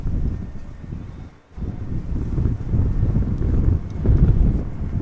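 Strong crosswind at Amsterdam Schiphol Airport roars and buffets the microphone in heavy low gusts, dipping briefly before it surges again, with no voices.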